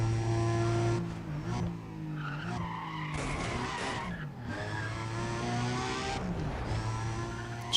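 Powerful sports car engine revving and shifting pitch as it accelerates in a Need for Speed video game, with squealing tires mixed in, loud and close throughout.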